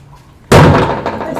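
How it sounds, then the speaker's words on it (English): A knock or bang on a door: one sharp, loud impact that rings and decays over about a second, following a quiet moment. "Make a knock here."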